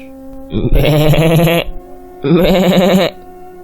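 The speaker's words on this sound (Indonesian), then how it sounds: "Suara kambing, ayam, dan sapi saling bersaut-sautan menimbulkan suara gaduh yang teramat sangat." Two loud, close bleats from a goat or sheep, each about a second long, separated by a short pause.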